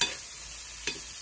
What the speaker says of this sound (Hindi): इसको अच्छे से फ्राई करेंगे ताकि ये सॉल्टी हो जाए और मसाले वाला हो जाए